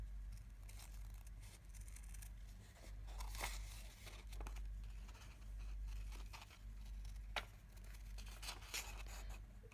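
Paper template being snipped with scissors around a heart-shaped crest outline, close up with a steady run of crisp cutting and crinkling sounds plus brief paper rustles, no one talking.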